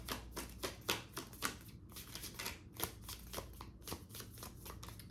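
A deck of tarot cards is shuffled close up, with rapid rippling riffles and soft flutters repeating steadily throughout, quiet but clear with no talk.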